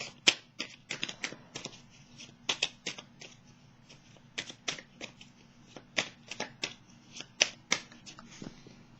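Tarot cards handled and shuffled close up, a quiet run of crisp, irregular flicks and snaps of card stock that comes and goes over several seconds, with no talking.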